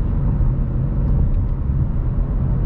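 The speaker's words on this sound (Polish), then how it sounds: "ten wydech z MG robi robotę w tym samochodzie" A Ford Mustang GT 5.0 V8 fitted with an MG exhaust gives a deep, steady, close rumble with no talking over it.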